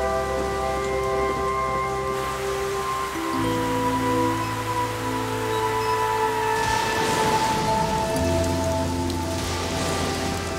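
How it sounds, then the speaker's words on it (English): Cartoon storm rain pours as a dense, continuous hiss beneath sustained orchestral music, with no voices. "Storm conditions may last several hours."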